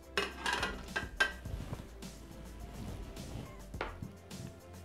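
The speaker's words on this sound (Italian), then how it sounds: "Adesso andremo ad aggiungere al trito che è rimasto nel boccale i pomodorini" Cherry tomatoes drop into a Thermomix bowl on top of leftover chopped mixture, giving a few soft clattering knocks and taps near the start, then quieter rustling handling close by.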